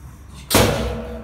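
A door slams shut once, a sudden loud thud and rattle after a quiet room, with the impact ringing briefly before fading.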